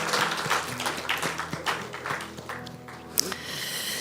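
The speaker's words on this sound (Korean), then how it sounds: "우리 뜨겁게 다시 한번 박수해 주십시오" A church congregation applauds at the close of a Sunday service, a warm burst of clapping that gradually thins out, with some murmuring and room noise in the sanctuary.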